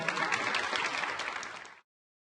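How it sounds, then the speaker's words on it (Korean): Applause at a Korean political party election rally, in honor of the campaign committee chairman, a dense burst of clapping that holds steady and then tapers off over about two seconds. "이해찬 위원장님께 큰 박수 부탁드리겠습니다"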